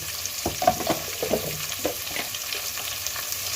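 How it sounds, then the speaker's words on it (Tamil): Onion and tomato frying in a pan for pulao, a soft steady sizzle with a few stirring scrapes and clinks near the start, close and moderately quiet, no talk. "வெங்காயம் ரோஸ்ட் ஆச்சு, தக்காளி போட போகிறேன்."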